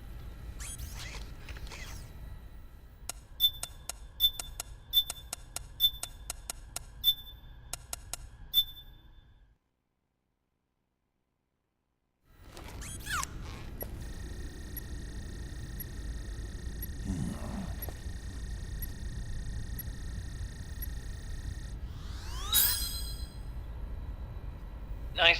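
A five-digit code punched into a keypad in Metal Gear Solid 4: a rapid run of short electronic beeps and clicks, a brief silence, then a sustained electronic tone over low game ambience.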